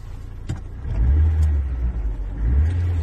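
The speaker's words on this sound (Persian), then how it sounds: "ماشین روشن شد، دور موتورش هم کار میکنه." A car engine turns over and settles into a steady, loud running rumble that swells briefly as it revs, heard close by with no talking.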